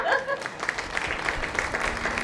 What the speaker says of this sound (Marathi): पूजा वहिन्यासाठी सगळ्या प्रेक्षकांनी पुन्हा जोरदार टाळ्या द्या